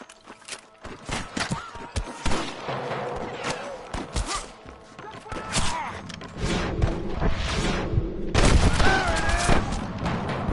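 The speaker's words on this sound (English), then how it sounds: "I can hear more gunshots." Gunfire in the Red Dead video game, with repeated loud shots and booms in irregular bursts over a busy mix of hoofbeats, movement and music, and voices shouting in between.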